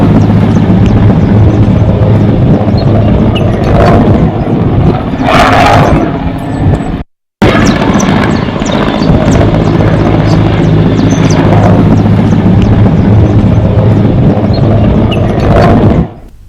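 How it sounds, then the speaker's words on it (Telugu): A helicopter carrying troops and weapons to the Karregutta hilltop on the Telangana–Chhattisgarh border, a loud continuous rotor and engine roar with a rhythmic chop, close by, briefly cutting out once before resuming. "హెలికాప్టర్ ద్వారా కర్రెగుట్టలపైకి భారీగా బలగాలు చేరుకుంటున్నాయి."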